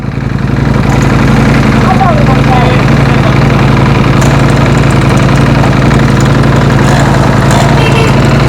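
A Ducati motorcycle engine runs loud and close at a steady idle, a continuous throbbing rumble with faint mechanical ticking on top and no voices over it.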